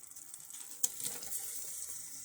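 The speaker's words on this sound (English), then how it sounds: "It's starting to sizzle" A soft hiss of curry ingredients sizzling in a hot pan, with one sharp pop partway through and faint crackles after.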